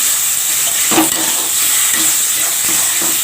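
Chili, cumin and ginger paste sizzles in hot mustard oil with a loud, steady hiss and crackle close by, broken by a few soft stirring scrapes, with no talk.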